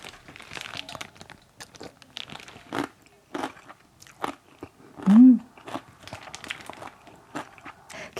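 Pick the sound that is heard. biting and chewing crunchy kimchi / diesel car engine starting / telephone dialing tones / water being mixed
biting and chewing crunchy kimchi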